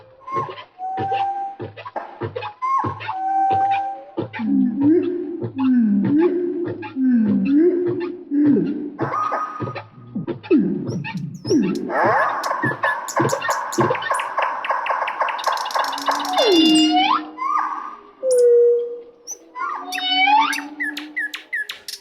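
A recorded humpback whale song of groans, squeals and rising whoops, some phrases repeated in quick pulsing runs and high sweeping cries, loud and alone throughout.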